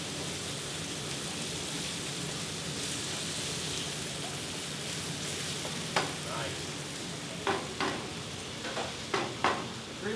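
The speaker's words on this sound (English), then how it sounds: "We have the shrimp shells and the fish bones, making the stock for the paella." Shrimp shells and fish bones sizzle and bubble steadily in a pot for paella stock, a dense, even crackle with a few sharp stirring clinks near the end.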